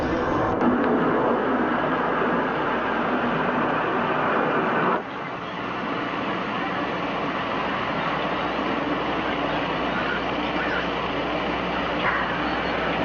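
A steady, broad roar of a circling aircraft engine drones on continuously, dipping briefly midway, with no voices.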